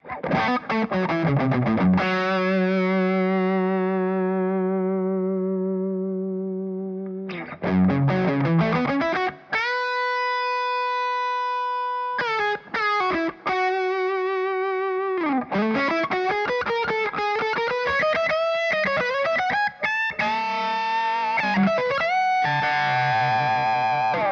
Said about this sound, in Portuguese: aquele som viscoso típico dos Orange